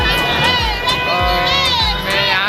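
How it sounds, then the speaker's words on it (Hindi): A dense crowd of devotees mills around a festival pandal in Gopalganj, a loud, continuous roar of overlapping voices with children shouting and cheering, plus rhythmic low thumps beneath. "श्रद्धालुओं का देख सकते हैं कितना भीड़ लगा है यहाँ"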